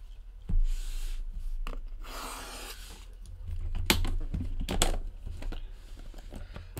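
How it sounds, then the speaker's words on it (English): A blade cuts through the sticker seal on a 2017 Panini Flawless Football trading card box, making close, quiet scratchy rubs and scraping bursts in irregular spurts, with no talking. "Let's try to get this sticker cut right here."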